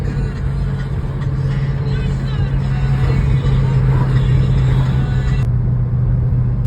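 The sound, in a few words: Shelby GT500 car driving on a test drive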